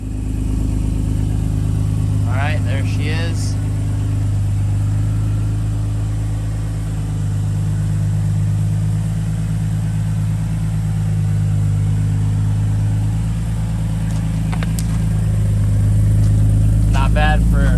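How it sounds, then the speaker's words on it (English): A 2005 Infiniti G35 Coupe engine idles steadily after starting, a loud, even mid-pitched hum throughout, while someone speaks briefly twice over it. "We'll go ahead and start it up real quick."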